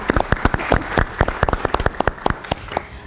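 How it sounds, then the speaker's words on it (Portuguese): Live studio audience applauds a guest on a Mozambican talk program about law and justice: a close, uneven patter of individual hand claps from a modest crowd, lasting about three seconds with no talking. "Uma salva de palmas"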